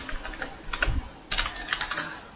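Keys clack on a computer keyboard as an SQL select command is typed, in two quick bursts of close, sharp taps separated by a brief pause, with no talking.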